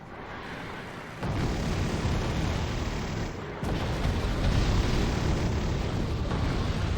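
Strike in the war strategy game Wargame: Red Dragon, heard as a loud, sustained rumbling roar of explosions and battle noise that swells sharply at about one second and again near three and a half seconds, with no talk.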